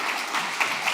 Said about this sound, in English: let's give our amazing product team a good round of applause